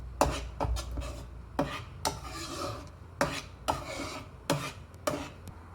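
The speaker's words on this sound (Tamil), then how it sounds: "ஸோ இப்போ இதெல்லாம் மிக்ஸ் பண்ணிக்கலாம்" Garam masala being stirred into the gravy for paneer butter masala in a pan, a series of soft scraping strokes at an uneven rhythm, close and fairly quiet, with no voices.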